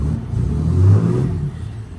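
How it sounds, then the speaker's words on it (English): Engine of a custom 1979 Buick Regal with 143,000 miles at an auction lot, revved once: a low, rumbling engine note swells to a peak and then eases back to idle, heard close and steady with no talk. "Well, let's give it a little rev."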